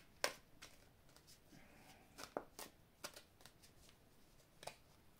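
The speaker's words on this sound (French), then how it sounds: "je vais étaler les cartes." Oracle cards being shuffled and spread out on a table, with soft riffling swishes and a few sharp slaps and flicks, close and fairly quiet, no talk.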